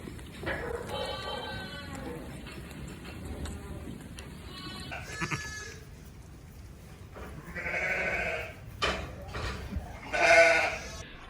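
Sheep on a hill farm at lambing time bleat in several separate calls, some near and some farther off, over faint outdoor background noise.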